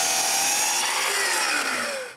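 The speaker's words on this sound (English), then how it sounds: "Now I can cut the front and back to the right length." A power saw cutting a wooden board to length for a bathroom towel cabinet, a loud continuous whining cut with the pitch dropping slightly as the blade works through the wood, ending abruptly.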